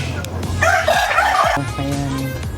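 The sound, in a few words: chickens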